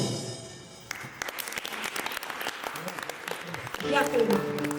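A theatre audience claps for the actors in a steady, moderately loud wash of applause that swells near the end. A voice speaks over it.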